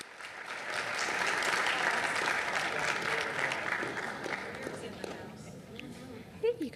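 Audience applause at a city commission meeting, a dense wash of clapping that swells, holds steady for several seconds and then thins out.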